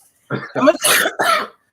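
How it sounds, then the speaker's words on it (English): A short burst of four harsh, closely spaced coughs, loud and near, with silence before and after. "Oh my goodness, my cough."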